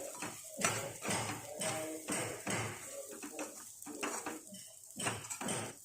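Metal spatula scraping and clinking against a kadhai while bread pieces are stirred in ghee over medium heat, a steady run of close, repeated scrapes and knocks with no talk.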